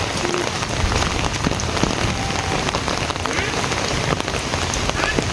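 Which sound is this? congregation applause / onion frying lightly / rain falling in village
rain falling in village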